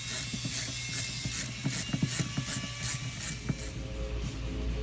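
A ratchet with a 17mm socket and extension turning out seat bolts in a BMW E30 sedan, a quick series of close metallic clicks over a faint steady hum.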